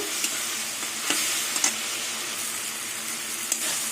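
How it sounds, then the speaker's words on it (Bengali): Small fish curry is stir-fried until the oil separates: a loud, continuous close sizzle of hot oil, with occasional scraping stirs and light spatula taps. "যতক্ষণ তেল না ছাড়বে ততক্ষণ আমি কষিয়ে যাব"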